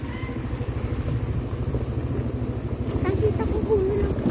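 A motorcycle engine approaching on a road near a quarry site by a nature park in Tanay, a steady low rumble growing slightly louder under hiss and faint background voices.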